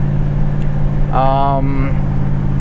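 A 1974 Oldsmobile Cutlass Supreme engine pulls in first gear with a steady, loud low drone, and a rising whine swells briefly in the middle before fading back into the constant rumble.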